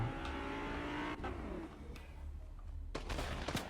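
A car engine in the Fortnite video game drives steadily, mixed with game effects and sharp bursts that sound like gunfire, with no talk over it.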